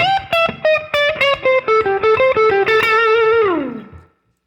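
Electric guitar blues lick in a slow minor pentatonic style, with a rapid rake into string bends; a run of clipped, distorted notes ends on a long sustained bend that slides downward and fades out, played solo.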